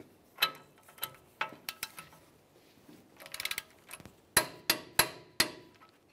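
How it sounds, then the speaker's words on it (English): Torque wrench clicking on a lower ball joint nut of a 2005-2010 Dodge Dakota, set to 95 foot-pounds: a series of sharp, close mechanical clicks and clacks, irregular at first, then four evenly spaced loud clicks at the end. "Now we can torque the lower ball joint nut to 95 foot-pounds."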